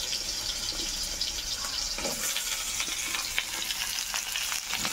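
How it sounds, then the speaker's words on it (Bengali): Freshly cut new potatoes frying in hot oil give a steady, close sizzle with scattered crackles and brief stirring scrapes throughout, no voices. "আলুগুলো দিয়ে দেবো তেলের মধ্যে।"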